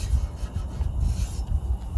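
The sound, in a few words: sanding a car body by hand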